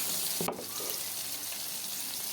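Bata fish fry in hot mustard oil, giving a loud, continuous, close-up sizzle with a short splash as a piece goes in.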